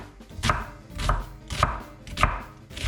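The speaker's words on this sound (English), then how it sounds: "With knife just up and down, just like that, and the onion is done." A knife chops an onion on a cutting board in five evenly spaced, crisp thuds, up-and-down strokes roughly every half second, close and clear with no voices.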